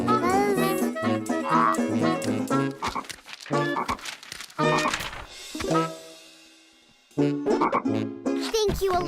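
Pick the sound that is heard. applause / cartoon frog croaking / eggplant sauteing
cartoon frog croaking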